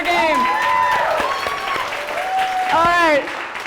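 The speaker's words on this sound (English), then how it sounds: "please give another round of applause to Lucas" Applause from an audience for an interview guest runs steadily beneath a voice talking over it, the clapping continuing throughout.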